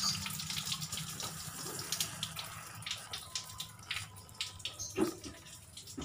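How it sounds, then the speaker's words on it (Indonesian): Water drains from the lower drain tap of a car radiator, a steady light splashing and trickling with small irregular gurgles and drips over the whole stretch, fairly faint and heard alone. "Terus buka kran pembuangan yang di radiator bawah."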